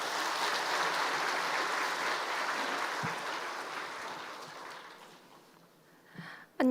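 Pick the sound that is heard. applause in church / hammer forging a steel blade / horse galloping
applause in church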